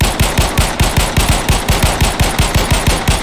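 Machine gun fire in a video game, a steady rapid stream of loud, close shots at an even rhythm for about three seconds, with no talking over it.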